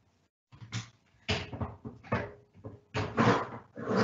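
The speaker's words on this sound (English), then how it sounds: "Oops, shut the door there." A kitchen door is shut during a pastry cooking class, giving a run of clattering knocks and bumps with short pauses between them, fairly close and with no talk over it.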